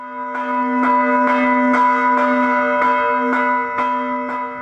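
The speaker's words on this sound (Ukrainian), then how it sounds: "Після встановлення хреста одразу лунає церковний дзвін," A church bell called Blagovist rings from the belfry in Svatove just after a cross is installed on top, sounding loud, evenly spaced strokes about every half second with a long ringing hum between them.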